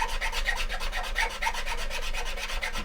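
A blade lightly scrapes a plastic part of an Airfix 1/72 scale Vulcan kit, with steady, rhythmic rasping strokes repeating close up, with no voices.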